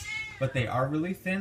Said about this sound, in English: Yeah, that's the cat